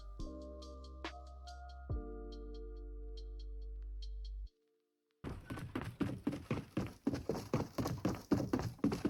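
In Fortnite, soft footsteps run in a quick, steady rhythm with light thuds, following a few game clanks and a brief silence.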